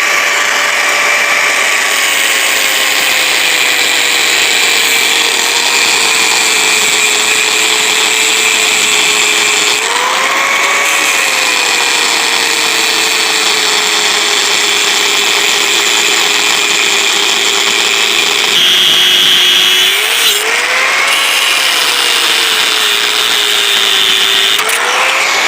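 A power tool cuts a piece off steel stock while a knife is being made, a steady high whine running continuously with pitch dips where the blade bites harder, loud and close with no talk.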